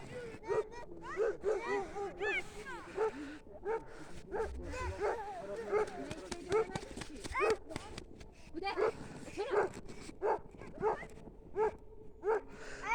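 A dog barks repeatedly in short sharp bursts with some yips and whimpers, close by, while people talk over and between the barks.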